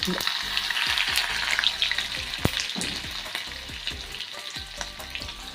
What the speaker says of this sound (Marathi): आता यामध्ये आपण लसूण ठेचून घेतलेला आहे